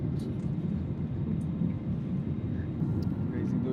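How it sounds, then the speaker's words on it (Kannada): Airplane cabin noise on a short flight just after take-off, a steady low engine rumble and hiss filling the background under a person talking. "ಫ್ಲೈಟು ಟೇಕ್ ಆಫ್ ಆಯಿತು"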